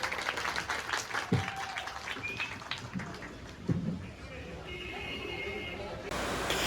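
An audience applauds in honour of Kalyan Silks at a school-kit distribution event for small children: a steady wash of many hands clapping together at moderate volume, with a few sharper knocks.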